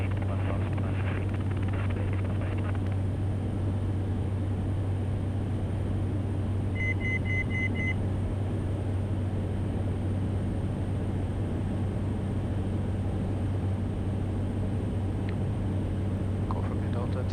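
A Cessna Caravan turboprop drones steadily on a departure taxi at Hwange, a continuous low engine hum with cabin noise and a brief faint beep.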